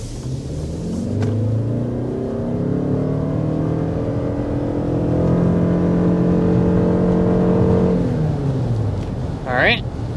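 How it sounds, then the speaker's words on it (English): A 2025 Lexus RX 350 accelerates hard up to 60 mph, and the engine note climbs through rising gears as a loud, steady cabin drone. Near the end the revs drop away with a brief high squeak. "we want to go ahead and start with a hard acceleration"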